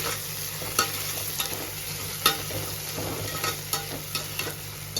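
Crushed ginger and garlic frying and being stirred in a pan for a veg kushka rice dish, with a soft steady sizzle under a kitchen hum and light scrapes and taps of the spoon every second or so.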